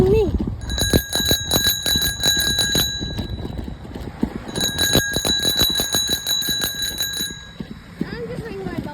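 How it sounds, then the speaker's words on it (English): Bicycle bell rung repeatedly on a bike ride, two quick bursts of rapid bright dings separated by a short pause, close and loud over road noise and wind, with a voice briefly heard. "I'm just ringing my bell for absolutely everything."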